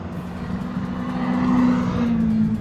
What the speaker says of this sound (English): here's my dad about to go by in the Elise